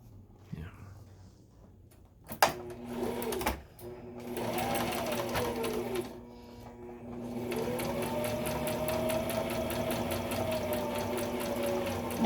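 A sewing machine stitches a fabric face mask seam, its steady motor hum and rapid needle chatter running nearly continuous after a few brief handling clicks at the start.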